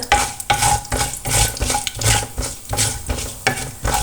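Fenugreek seeds browning in a pan, stirred hard with a metal utensil, make rhythmic scraping strokes roughly every half second over a bright crackling sizzle, loud and close with no voices.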